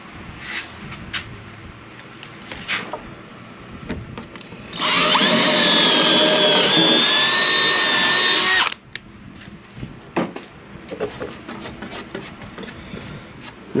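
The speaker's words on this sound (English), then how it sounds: "That is going to be where you need to drill your hole so you can put your legs on." A power drill bores a hole through the wood of a cornhole board, a loud sustained whine lasting about four seconds between quieter handling noises.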